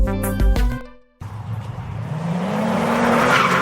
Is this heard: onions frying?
no